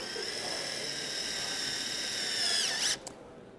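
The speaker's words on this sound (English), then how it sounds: "In second gear, with the handle, that's important, we now put the screw in." A cordless drill in second gear, with its side handle fitted, drives a long screw into wood: a steady, close whine with a rising pitch sweep near the end before it cuts off abruptly.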